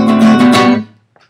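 Acoustic guitar chords for Yankee Doodle strummed up and down in a few quick close strokes, then the ring is cut off and fades, with one faint tap at the end.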